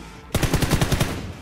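A rapid automatic burst of about seven close, punchy shots from a rifle in PUBG, firing in quick succession before cutting off into quiet.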